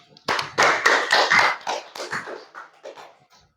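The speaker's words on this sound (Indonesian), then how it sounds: "Sekali lagi tepuk tangan" Students in an Indonesian classroom lesson clap together in a short, loud burst of applause that quickly swells and then tapers off in scattered claps.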